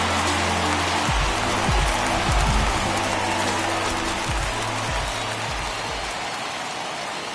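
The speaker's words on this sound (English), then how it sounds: "that rain is really coming down right now" Heavy rain pours steadily in MLB The Show 21, a loud dense hiss of drops on surfaces filling the air throughout, with low rumbling tones beneath.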